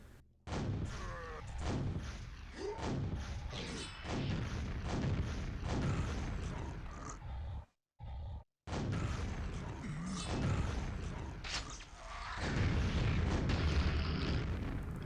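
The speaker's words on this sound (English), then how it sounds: "So I've a bit of long distance shooting here," Rapid gunfire and explosive bursts from Quake, long-range sniping and weapon shots fired in quick repeated volleys, loud and continuous apart from a brief pause midway.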